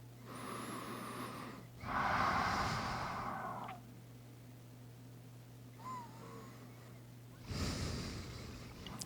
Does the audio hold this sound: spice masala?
no